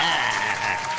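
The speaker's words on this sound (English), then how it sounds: "we go clap for our damn self." A group of people clap for themselves in a brief, dense burst of applause lasting about a second, close and fairly loud.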